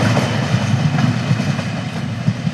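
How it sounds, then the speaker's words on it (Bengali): A train rumbles past close by at a small halt station, with a loud steady roar and rhythmic clatter of wheels on the rails. "ওই ট্রেনটা চলে গেল।"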